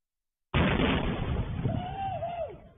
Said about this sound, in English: A Plum Canyon resident watched a firework explode just steps from her yard.